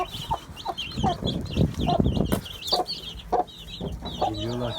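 Hens clucking busily at feeding time on a village farm, a close, steady flock chatter with overlapping clucks throughout and a brief lower voice-like sound near the end.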